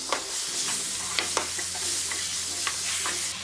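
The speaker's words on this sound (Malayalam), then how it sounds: "ഈ ടൊമാറ്റോ ഇതിലേക്കിട്ട് ഇളക്കി കൊടുക്കാം" Ripe tomatoes are stirred into a masala frying in a pan for Kerala egg curry, giving a continuous close sizzle with soft scraping strokes of the spoon.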